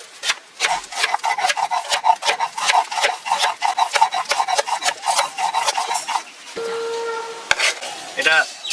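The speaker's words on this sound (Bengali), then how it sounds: "এটা বিরিয়ানির মাংসের মশলার জন্য করছি, জিরে বাটা।" Cumin is ground into a paste for a biryani meat spice mix, with close, rhythmic rasping scrapes in quick back-and-forth strokes. The strokes pause near the end, where a brief tonal clatter follows.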